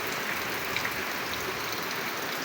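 Steady rain pours down outdoors near a papaya tree, a dense, even hiss of drops striking surfaces that continues without pause and with no voices.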